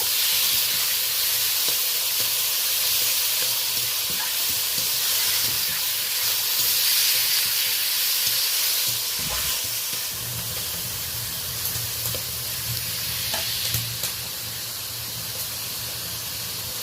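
Tomato, green chilli and grated onion fry in hot oil in a pan for a pangas fish curry, a dense continuous hiss and sizzle with faint scraping as the mixture is stirred, steady and close without talk.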